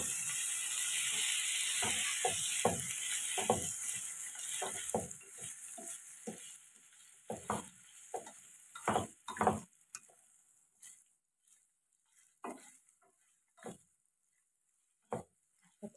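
Fresh mussels stir-fried in a hot pan for a basil dish, a steady loud sizzle at first that thins out into scattered clicks and clacks of shells and utensil being tossed and stirred.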